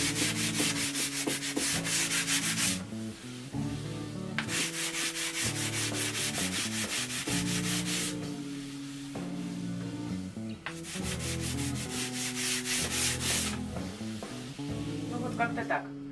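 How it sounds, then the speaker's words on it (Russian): Decorative plaster being sanded by hand with a piece of sandpaper: three long stretches of dry, rasping scrubbing separated by short pauses, with a steady tonal background underneath. "То есть вы шкурите, стряхиваете, шкурите, стряхиваете."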